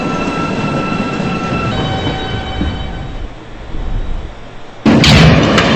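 Queens-bound E subway train on the BMT Broadway line, a loud rumbling run with squealing wheel tones that ends in a sudden harsh roar and screech.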